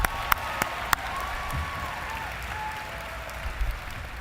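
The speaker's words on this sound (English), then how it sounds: "let's clap for these guys one more time." Audience at a high school graduation commencement ceremony gives a steady round of applause, moderately distant and sustained, with a few sharper claps near the start.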